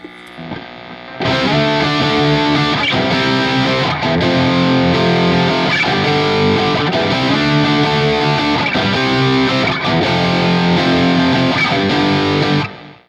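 A heavily distorted electric guitar through the Mr. Smith distortion setting of a Lekato Cube Baby amp-modeling pedal plays steady, rhythmic chords for about twelve seconds, loud and saturated, ending abruptly.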